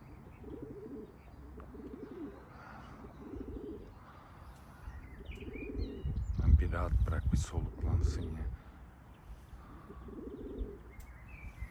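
Pigeons coo in a loft in repeated soft, rhythmic phrases, moderately close, while someone talks over them partway through.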